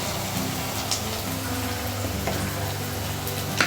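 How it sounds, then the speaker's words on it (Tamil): Onions sautéing in hot oil with mustard seeds and dried chillies for beans poriyal give a steady, even sizzle that holds for several seconds, with a few small pops and no talking. "இப்போ வெங்காயம் நல்லா வதங்கிட்டு இருக்கு"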